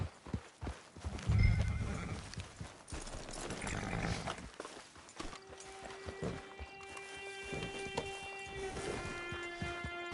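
Horse hooves and a whinny in the video game Red Dead Online, a loud neigh near the start followed by clip-clopping steps, then sustained game music tones with occasional hoof sounds.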